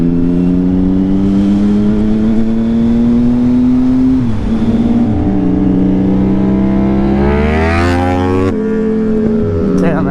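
A Ducati Panigale motorcycle engine drones loudly and steadily, then its pitch climbs in a rev toward the end and drops off sharply.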